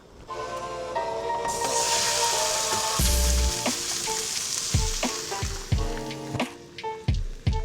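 A steak frying in a pan at an Oregon overland camp gives a steady close sizzle and hiss. Louder crackles and spatters break through it now and then.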